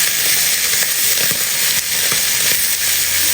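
Onion and capsicum sizzle and fry steadily in a covered pan, a continuous close hiss with faint crackles and occasional soft pops, no voices.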